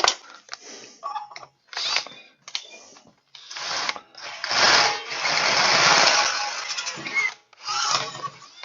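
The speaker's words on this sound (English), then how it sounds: "And there is my 2 holes I needed drilled." A power drill with a 3/8 bit bores holes in bursts, whining on and off and then grinding steadily through a longer cut near the middle, loud and close with short pauses between runs.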